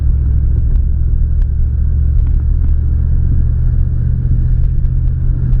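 Engine of a 2003 Toyota Tundra SR5 pickup, a steady deep rumble heard from inside as the truck drives, loud and close, with no voices.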